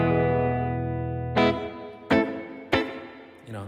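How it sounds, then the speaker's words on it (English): Electric guitar drenched in reverb, played in a looping setup: sustained harmonic chords with three sharp strummed attacks whose tails wash out long and spacious, loud and alone with no talking. "now it just sounds like a regular reverb"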